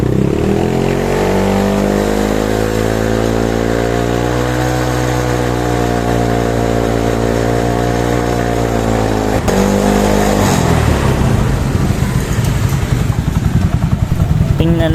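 A Yamaha Mio 115 scooter engine, just rewired, runs close and loud with a steady idle hum, then revs up briefly and settles into a rougher, pulsing throttle.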